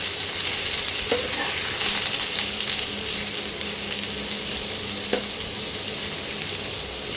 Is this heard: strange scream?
no